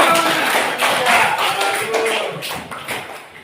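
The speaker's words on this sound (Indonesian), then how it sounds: "kasih tepuk tangan dulu" Students in a classroom clap by hand in a brief, uneven patter of taps that fades toward the end.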